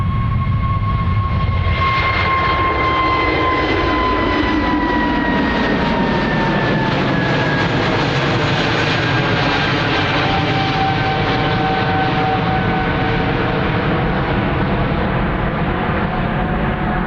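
Ryanair jet airliner departing runway 28 right at Dublin Airport, a loud continuous engine roar with a sweeping whine that slowly falls in pitch over about seventeen seconds, heard alone without talk.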